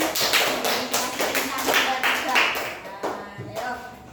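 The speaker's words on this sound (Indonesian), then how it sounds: "tepuk tangan buat Kakak di bumi" A small group claps in a classroom, a burst of quick, uneven hand claps lasting a few seconds, fairly close, with a teacher's voice mixed in.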